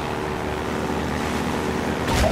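Steady drone of a motorboat engine in Half-Life 2, loud and continuous, with a brief splash or rush near the end.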